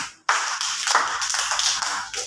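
Kindergarten children clap their hands in rhythm along to a song in a classroom on the first day of school, a quick series of close, sharp claps after a brief silence.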